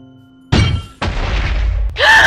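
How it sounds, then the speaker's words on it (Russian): Explosion in Minecraft near a village, a sudden loud boom followed by a rumbling crash of debris and a second burst, heard close and without talk. "Там что-то взорвалось, походу."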